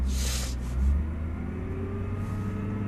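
A Nissan GT-R on a race circuit pulls away gently on light throttle, its engine a low steady rumble and whir with a brief swell as it starts rolling, fairly close and without talk.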